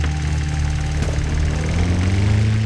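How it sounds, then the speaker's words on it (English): A weed whacker's small two-stroke engine drones steadily from a distance, its buzzing pitch slowly rising as it draws nearer, with no talk over it. "you do hear in the distance the sound of a weed whacker coming towards the clearing that you are all in right now"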